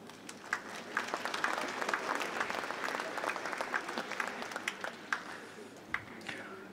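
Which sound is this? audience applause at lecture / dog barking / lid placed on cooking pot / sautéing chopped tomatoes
audience applause at lecture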